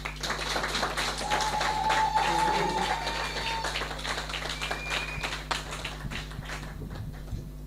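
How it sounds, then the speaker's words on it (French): Applause at an event as the chairman is invited to speak: scattered, fairly sparse claps over a steady hum and background noise, moderately faint, thinning toward the end. "Sous vos applaudissements"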